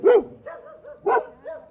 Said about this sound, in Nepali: तीन कुकुर छन् यहाँ